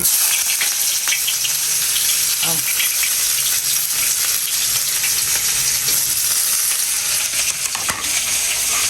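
Whole onions hiss and crackle loudly in hot oil, a continuous dense sizzle with occasional faint pops and clinks throughout.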